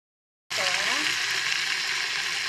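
Onions fry in a pan for farm chicken biryani, a dense steady sizzle starting abruptly after a short silence and continuing loud and close without speech.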